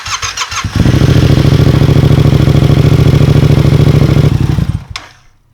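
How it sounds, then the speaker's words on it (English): A Yamaha FZ-07 motorcycle engine catches after a few brief cranking bursts, then settles into a loud, steady, close idle for about four seconds while warming up before cutting off. "it is now time to turn on the bike, heat up the engine"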